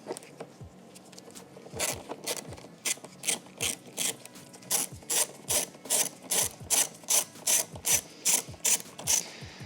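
Socket ratchet clicking as it loosens a Phillips-head nut on a car's MAF pipe hose clamp with a 5.5mm socket, a steady run of close, crisp ratcheting strokes that grow louder and more regular, with no talking.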